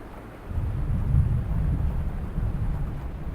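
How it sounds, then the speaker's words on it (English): Thunder sound effect in the farming video game Fields of Mistria, a low deep rumble that swells after a quiet start and rolls on steadily without speech. "the thunder sounds are nice"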